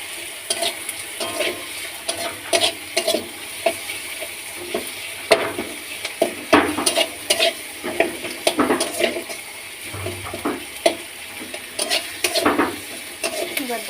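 Chilli powder is stirred into hot oil in a pan, giving a steady sizzle broken by repeated scraping spoon strokes in an uneven rhythm throughout.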